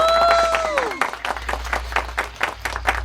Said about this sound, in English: Let's give Zora a big round of applause